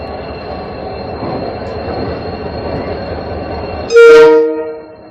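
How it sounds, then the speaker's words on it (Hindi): Koyna Express hauled by a WDP-4D diesel locomotive arriving at Pune platform 2, with a steady rumble of rolling rail cars, then a loud, sudden horn blast near the end that fades out. "तो अपनी कोयना एक्सप्रेस अपने राइट टाइम 12:35 पर पूना प्लेटफॉर्म नंबर 2 पर अराइवल हो रही है।"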